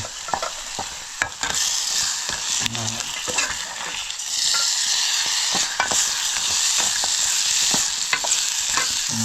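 Onion and masala gravy for a crab curry sizzle steadily in a cooking pot while a spoon scrapes and stirs in irregular strokes, close and continuous with no talk.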